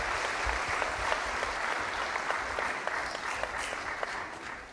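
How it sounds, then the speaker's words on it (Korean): An audience at a university anniversary ceremony applauds after a musical performance by four players, a dense, steady clapping that stays loud and even throughout with no talk over it. "다시 한번 좋은 연주를 들려주신 우리 네 분께 큰 박수로 감사의 뜻을 전해 주십시오."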